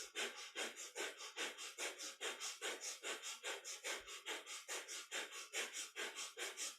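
Rapid, even breath of fire in a kundalini yoga kriya for the lungs: sharp nasal exhales and inhales repeat about three times a second in a steady rhythm, close and soft, with no talking.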